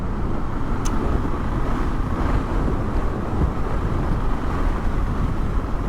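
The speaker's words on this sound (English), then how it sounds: "Oh, very windy here." Steady, heavy wind buffeting the microphone in a constant low roar, loud and unbroken throughout, with no voices.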